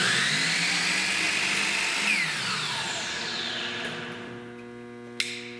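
A power saw cuts through a piece of scrap wood in a night stand face frame build, its high whine dropping in pitch under load, then winding down into a fading hum, ending with a sharp click.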